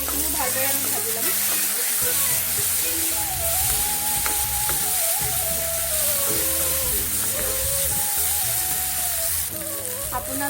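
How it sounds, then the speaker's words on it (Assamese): Chopped tomatoes fry in a pan after beans while Maggi noodles are being made, giving a steady, close sizzle and hiss throughout with faint tonal sounds in the background. "এইখিনিও ভালদৰে আমি ভাজি ল'ম।"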